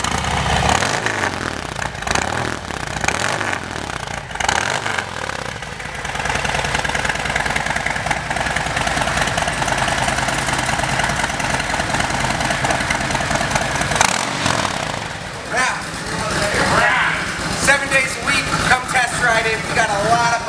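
A 2019 Harley-Davidson Heritage Softail Classic 114 motorcycle with a Thunderheader exhaust rumbles steadily at idle and then revs up, loud and close, with people talking over it at times.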